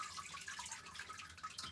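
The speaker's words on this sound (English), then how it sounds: "Pour that out over the sluice so if there is any gold that floats out, it'll get caught up" Muddy paydirt water poured over a sluice onto a mat while panning for gold, a steady close splashing, trickling flow lasting throughout with no talk.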